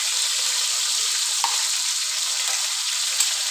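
Ginger garlic paste sizzles in a pan of browned rice for chana pulao, a loud, steady hissing fry up close with one brief utensil tap and no voices.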